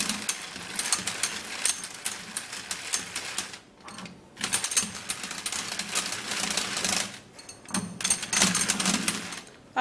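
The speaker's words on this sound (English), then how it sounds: "now is the best time to mix and mix very" A skincare mixture is stirred and mixed briskly in a small container, giving fast rattling, clicking scrapes in rapid bursts with two brief pauses, close and fairly loud with no talking.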